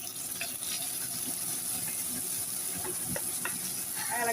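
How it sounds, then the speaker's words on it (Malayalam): Fish curry being stirred as it fries in a pan, a soft steady sizzle with occasional light scrapes and taps of the spoon, fairly quiet and close. "ഇളക്കുന്നു."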